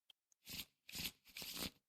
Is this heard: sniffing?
no